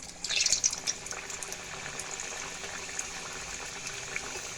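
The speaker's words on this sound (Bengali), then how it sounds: "তুলে নিয়ে এইভাবে তেলে ছেড়ে দিলাম" A mini Moghlai, an egg-filled fried snack, slipped into hot oil sets off a short burst of bubbling hiss that settles into a faint, steady frying fizz.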